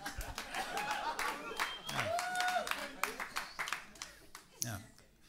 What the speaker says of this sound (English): I got an applause break